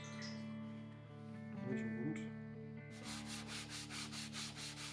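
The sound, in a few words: sanding wood with sandpaper, guitar bird's beak joint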